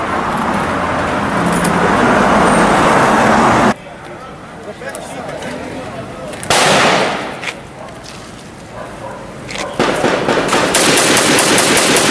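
Gunfire rattles in loud, harsh, broadband bursts that start and stop abruptly over about twelve seconds, with people talking and shouting in between.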